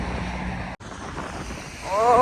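Gusty seaside wind buffeting the microphone in a park by the sea, a broad continuous roar with a brief dropout, and a voice rising faintly at the end.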